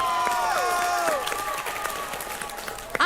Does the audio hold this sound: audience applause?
yes